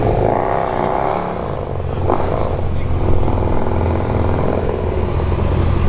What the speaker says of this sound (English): Got the Harley coming back.